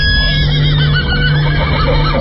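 A horse neighing loudly and close over steady background noise in a radio horror drama, with faint clip-clop of hooves mixed in.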